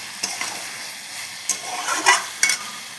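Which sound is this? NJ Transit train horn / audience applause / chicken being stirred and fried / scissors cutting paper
chicken being stirred and fried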